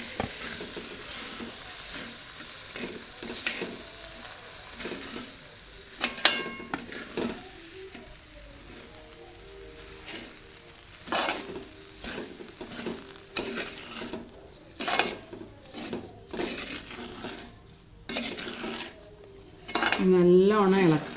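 A spoon stirs roasted semolina rava kichadi in a pan, with repeated metallic scrapes and clinks against the pan and a faint sizzle, close and fairly quiet, with no talking.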